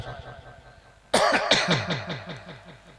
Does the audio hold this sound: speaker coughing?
yes